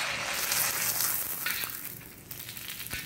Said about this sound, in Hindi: तेल हमारा गर्म हो गया है और हम आपको पापड़ भून के दिखा रहे हैं